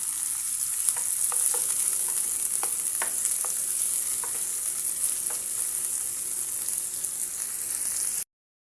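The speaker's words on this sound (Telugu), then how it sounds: "ఇలా ఆనియన్స్ మొత్తం వేసేసుకొని దీన్ని ఒక 5 నిమిషాలు ఫ్రై చేయండి." Chopped onions fry in a pan with a continuous bright sizzle, a few soft stirring taps along the way, and then the sound cuts off abruptly near the end.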